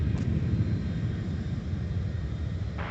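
An American Airlines airliner on its takeoff roll from runway 4 at Minneapolis–St. Paul airport, a steady low engine rumble that holds evenly throughout with no voices.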